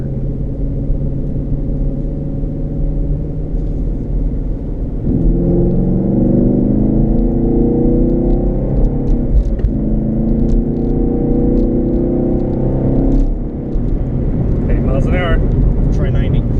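A 2018 Chevrolet Camaro SS launches on concrete, its engine rumbling at idle before rising into a loud, sustained acceleration roar that drops off near the end, heard from inside the car.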